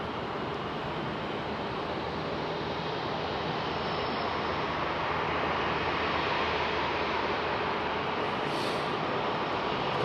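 Airliner fitted with Rolls-Royce Trent XWB engines departing Heathrow at night, a steady, loud broadband jet roar that holds unbroken and slightly swells over ten seconds, with no voices.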